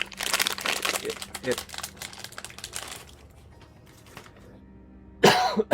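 A crinkly plastic cough drop wrapper rustles in short bursts as it is unwrapped, broken up by a cough and throat clearing, then a quiet pause before a final loud crinkle.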